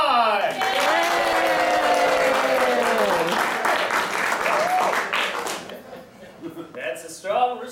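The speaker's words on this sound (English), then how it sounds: "You in the studio audience, you clap for the one that you want Brandy to pick." Studio audience at an improvised game show clapping for a contestant, a loud burst of applause mixed with cheering voices that fades out near the end, followed by a few brief bumps.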